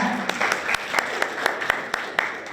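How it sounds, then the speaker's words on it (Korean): A student forum audience in a hall claps for an award-winning presenter, with several sharp individual claps standing out over a thin, scattered applause, and a voice briefly in the background. "큰 박수로 맞이해 주시기 바랍니다."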